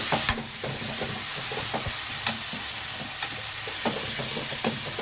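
Ground chana dal fries with masala in a pan, sizzling steadily up close while a spatula scrapes and taps in irregular strokes every second or so.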